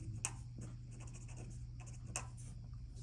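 Marker or chalk writing on a board while labeling the outer layer of the uterus in an anatomy lesson, a series of short scratchy strokes over a steady low hum, with no talking.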